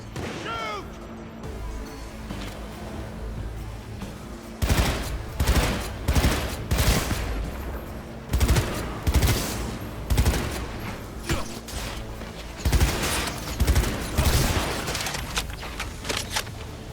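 Gunfire in the video game Cyberpunk 2077: loud, repeated bursts of rapid automatic shots with short pauses between volleys, close and harsh throughout.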